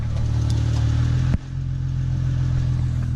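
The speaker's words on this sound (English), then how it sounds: "you can hear that little exhaust tick. It's a Ford thing." A Ford Mustang engine idles steadily with a low rumble and a faint rapid ticking from an exhaust leak, broken by a single sharp clunk partway through.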